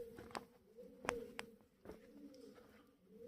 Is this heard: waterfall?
no